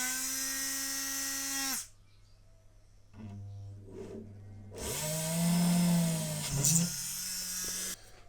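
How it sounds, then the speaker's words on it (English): A small motor drill whines at high speed while boring into a plastic 1/200 Trumpeter HMS Hood model kit, running in bursts that drop, restart and change pitch under load, close and fairly loud. "So I much prefer to use a motor drill at this stage."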